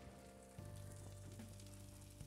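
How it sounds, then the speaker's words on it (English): Baked meatballs fresh from the oven sizzle in a hot pan, a steady close crackling hiss that swells after a brief quieter start and holds continuously, with no talking. "I can hear them sizzling."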